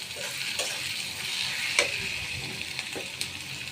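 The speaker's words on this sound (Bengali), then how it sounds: "যে মরিচের গুঁড়ি দিলাম বন্ধুরা, দেখেন এখন লাড়াচাড়া করি" Chili powder and onion sizzle and fry in a pan, with a steady quiet crackle and scattered clicks and scrapes as they are stirred, and no talk.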